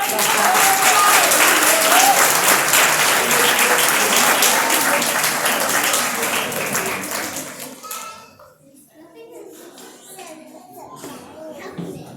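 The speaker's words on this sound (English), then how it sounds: "please give this experiment a big round of applause" An audience at a university science show in Durban applauds a chemistry experiment, loud dense clapping with children's voices mixed in for about eight seconds, then fading to scattered claps and quiet chatter.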